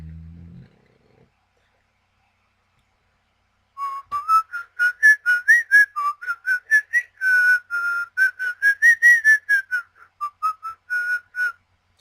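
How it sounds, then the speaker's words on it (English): A person whistles Yankee Doodle in a bright, clear melody of short rhythmic notes for about eight seconds, following a brief low murmur and a few seconds of silence. "perhaps it's time for another whistle"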